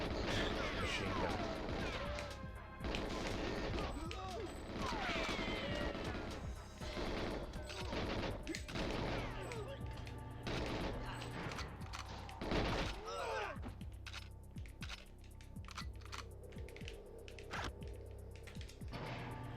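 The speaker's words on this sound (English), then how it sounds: "Just use the machine gun." Rapid machine gun fire from GoldenEye 007 on the Facility level, bursts of gunshots layered with game music and clattering impacts, dense and continuous throughout.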